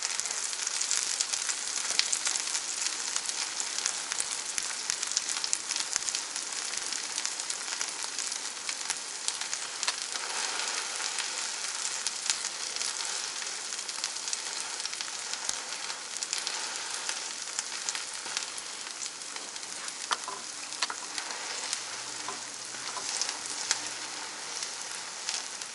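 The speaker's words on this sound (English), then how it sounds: "You want to let it fry up first." Cheese fries in oil in a pan for an egg and cheese breakfast sandwich, a soft, even crackling sizzle with tiny pops that runs steadily and fairly faint, with nobody talking.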